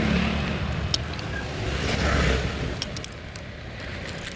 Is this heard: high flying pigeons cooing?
no